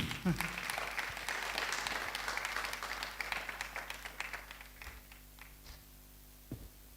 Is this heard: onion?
no